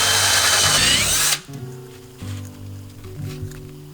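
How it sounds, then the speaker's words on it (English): A power drill whines at high speed briefly while drilling a hole in a cap, then cuts off, leaving low rumbling background hum and a few faint knocks. "So I'm just going to drill a hole in it and then stick it through."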